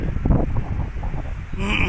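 Steady wind roars and buffets the microphone at Suan Son beach in Hua Hin, Prachuap Khiri Khan, as a continuous loud rush with no pauses.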